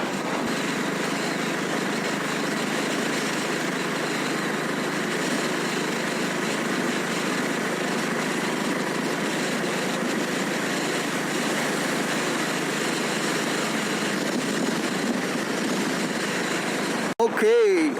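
A Royal Enfield CL350 motorcycle cruises on an open coastal road, its engine a steady, moderately loud hum mixed with wind rush that holds even throughout, with a brief bump near the end.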